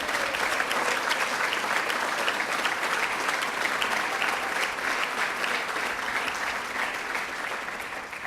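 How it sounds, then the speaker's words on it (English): Sustained audience applause at an outdoor challenge awards ceremony, a thick, even roar of clapping crowd that carries on for the whole stretch without pause. "give the New York State Assembly a big round of applause"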